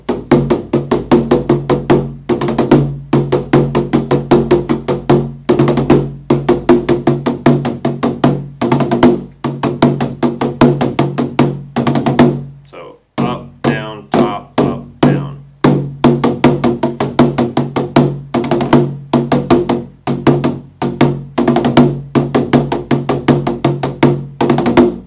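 Fast, rapid bodhran stroke rolls sound continuously in tight rhythmic clusters, loud and close, with one short pause midway before the rolling strokes resume.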